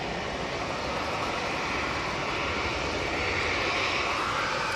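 Jet2 airliner engine at Manchester Airport during stormy weather, a steady broadband roar that holds loud and unbroken throughout with no voices.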